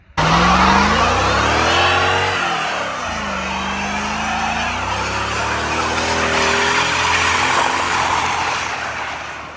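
A Mercedes S-Class car is driven hard, its tires skidding and squealing loudly while the engine revs rise and fall, with sustained screeching close by throughout.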